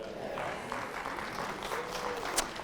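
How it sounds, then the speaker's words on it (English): A small group in a keynote audience at the Ford Theater claps briefly, a soft, scattered patter of hands filling the room at moderate distance. "the 7 people over here that clapped when I said that"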